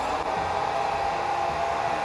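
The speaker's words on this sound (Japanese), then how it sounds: "ドライヤーの温風をかけて温めて" Handheld hair dryer blowing warm air over a cosplay wig, a steady, loud, unbroken whooshing roar with a constant motor whine, close up and with no voices.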